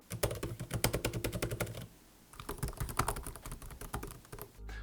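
Rapid laptop keyboard typing at close range, a steady clatter of key presses with a brief pause midway, then a burst of typing again.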